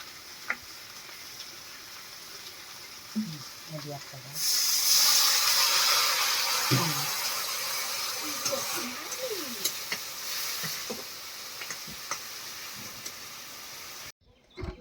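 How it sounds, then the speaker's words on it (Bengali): Curry being cooked down in a pan with a little water: a steady wet hiss and sizzle that rises midway, with scraping stirring strokes on top, close up and continuous with no talking, then cutting off abruptly near the end. "সামান্য একটু জল দিয়ে তরকারিটা কষি নেব।"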